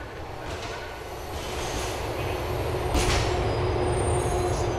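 A train in the video game Grand Theft Auto IV rumbles past, a dense, steady rolling roar that grows slightly louder midway, with a brief metallic squeal.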